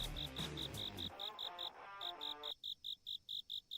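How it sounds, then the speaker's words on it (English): Loud, rapid cricket chirps pulse steadily from close by near a sugar cane field, continuing alone after a stretch of other mixed sounds fades out. "That cricket is loud."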